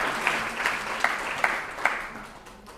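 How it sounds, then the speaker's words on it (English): A lecture audience at a university claps steadily in moderate applause, with a few louder, sharper claps standing out before the clapping tapers off. "Can we have a big applause to Pak Haidir?"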